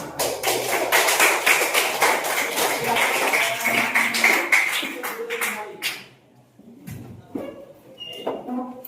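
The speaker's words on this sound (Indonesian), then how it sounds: "tepuk tangan" Schoolchildren in a classroom clap their hands together, a dense run of quick, loud claps for about six seconds that stops abruptly, followed by a few scattered taps and faint voices.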